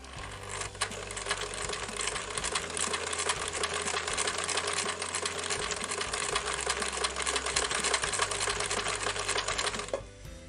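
Sewing machine stitching fabric for a tote bag, a steady loud mechanical whir with rapid needle clatter running continuously for about ten seconds before stopping abruptly.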